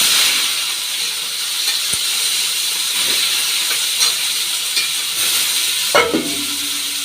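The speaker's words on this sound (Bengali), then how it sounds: "কড়াইয়ে আবার তেল ঢালা হলো। এখন করলা ভাজা হবে।" Bitter gourd fries in oil in a wok, a loud, steady close-up hiss of sizzling with a few sharp clatters and a burst of spitting near the end.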